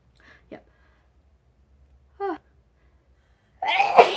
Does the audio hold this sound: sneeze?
yes